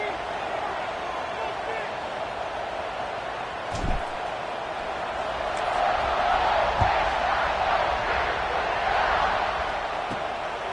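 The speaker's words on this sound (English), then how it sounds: "this crowd is buzzing after that last score" Stadium crowd in a college football video game, Ohio State against Minnesota, a continuous buzzing murmur that swells midway, with a commentator talking over it and a few thumps.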